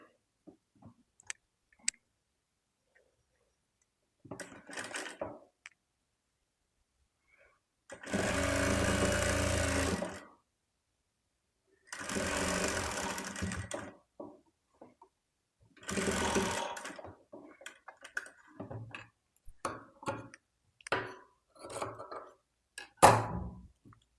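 A sewing machine stitches fabric for a baby frock in several bursts of steady running, with short clicks and handling noises between them, close up and with no talk.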